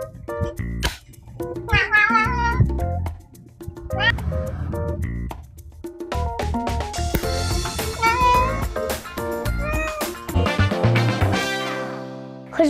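A cat meows several times amid other sounds, with bursts of busy, music-like noise running throughout.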